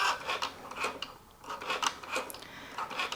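A Cricut Joy cutting machine slicing vinyl, making a rhythmic raspy scraping and whirring as the blade carriage moves back and forth in short bursts, close and moderately quiet.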